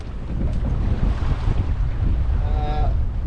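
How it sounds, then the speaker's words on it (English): Strong wind buffeting a hove-to sailboat on the choppy Blackwater, a constant loud rushing roar with heavy low rumble from gusts on the microphone and a faint creak or whistle near the end. "it's a fairly good wind"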